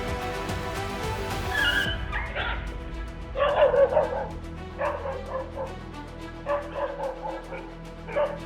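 A dog barks and yelps in a series of sharp, agitated bursts during a leopard attack on a house, heard at moderate distance after a brief rush of noise.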